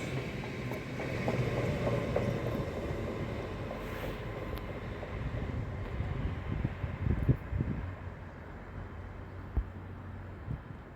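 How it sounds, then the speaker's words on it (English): A Grand Central train to London King's Cross pulling into platform 1 at Northallerton station, a steady low rumble and rolling hum with a few clanks and squeals near the end, fairly close and without talk. "arriving into platform number 1 here at Northallerton is the Grand Central service to London King's Cross."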